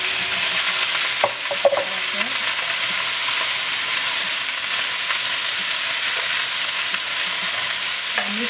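Homemade rice noodles (kwetiaw) are stirred and tossed in a hot pan under a loud, unbroken sizzling hiss, with a few sharp clinks of utensil against metal.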